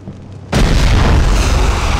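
A grenade explodes in the PS2 first-person shooter Cold Winter, a sudden loud, close boom that rumbles on and fills the rest of the moment after a quieter lead-in.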